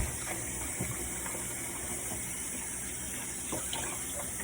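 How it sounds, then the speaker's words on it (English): Tap water runs steadily into a sink while smoothie mess is rinsed off, a continuous close gush with faint splashes and light handling sounds, no talking. "I'm just going to rinse it right off."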